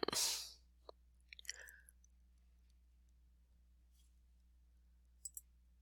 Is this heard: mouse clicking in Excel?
yes